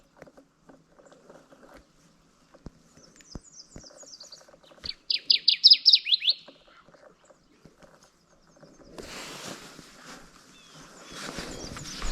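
A single Kirtland's warbler sings a short, bright, rapid burst of chirping notes nearby on its Michigan breeding territory, surrounded by quiet clicks and light rustling, then scattered background noise.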